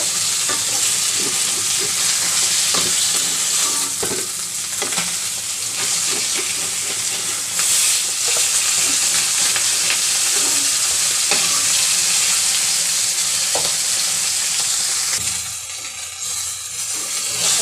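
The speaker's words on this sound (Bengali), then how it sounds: "আমি এই তেলে ভেজে নেব" Steady, loud sizzling of mrigal fish frying in hot oil, a continuous crackling hiss with occasional pops and spatters, no voices.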